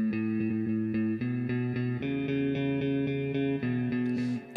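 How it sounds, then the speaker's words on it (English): Dry electric guitar part with no delay pedal, a steady picked pattern of sustained chords shifting through a few changes, played alone at even volume. "I mean, without the delay, it sounds like this."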